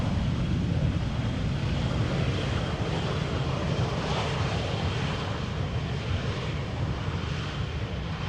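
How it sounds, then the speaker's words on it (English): A jet airliner takes off from runway 24 at Amsterdam Schiphol on a crosswindy day, a steady broadband engine roar holding loud and even throughout at a moderate distance, with no voices. "an airplane taking off from runway 24 in the background as well"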